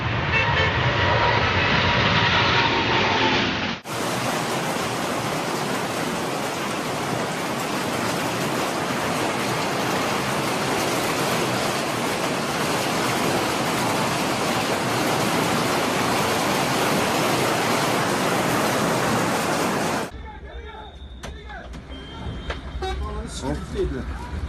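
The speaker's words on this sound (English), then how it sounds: "Here is footage of a powerful storm that rapidly descended on a harbour in Massachusetts." Roaring wind and rain from a powerful storm sweeping into a Massachusetts harbour, a loud, steady broadband rush that holds for about sixteen seconds before breaking into quieter gusts and clatter.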